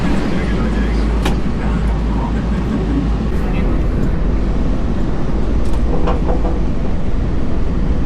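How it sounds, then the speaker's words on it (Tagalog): A steady low rumble and rattle from inside a moving train, continuous and close, with people talking over it. "So, nakasakay kami ng train."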